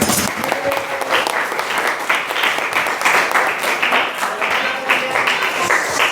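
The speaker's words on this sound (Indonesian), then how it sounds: "Tepuk tangan untuk Gatan." Steady applause from a group, dense clapping that holds evenly throughout, with a few voices faintly mixed in.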